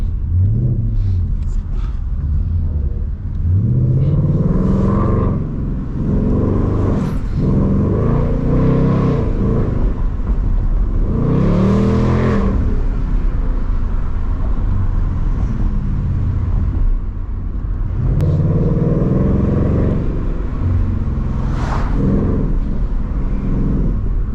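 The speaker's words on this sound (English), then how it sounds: "it has a V8 engine, and especially when you go ahead and add these crazy exhaust systems on these cars" A Ford Mustang GT 5.0 V8 engine with an aftermarket exhaust revs hard again and again, deep rumbling roars rising and falling in bursts with a steady idle between, loud and close.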